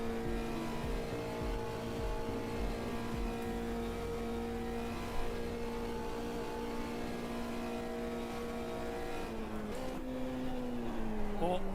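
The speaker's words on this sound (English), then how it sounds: "This car engine noise is really annoying." Race car engine in the Automobilista 2 racing game at Monza, a steady droning whine held through most of the run, with a gear shift or pitch drop near the end, continuous and fairly loud.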